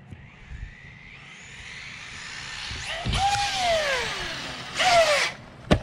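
An Arrma Typhon 6S RC car bashing outdoors gives off a rising, high-pitched motor whine that surges twice in loud bursts, each falling away as it sails through the air, with a sharp thud of landing near the end and no talking.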